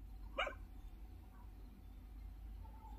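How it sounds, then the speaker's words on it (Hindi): A single short dog bark, somewhat distant, rings out at night over a low hum of background noise, followed by quiet. "कुत्ते के भौंकने की आवाज आई है।"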